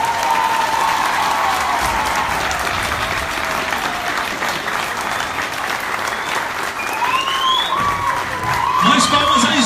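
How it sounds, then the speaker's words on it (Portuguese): Loud, sustained applause from a large audience at a PDT party convention in Contagem, Minas Gerais, dense clapping filling the whole stretch with scattered cheers and a voice calling out over the crowd. "Mais palmas aí, gente! Mais palmas!"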